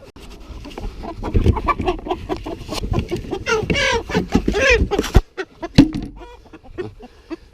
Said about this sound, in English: This is one of the blue Orpingtons that we ordered in.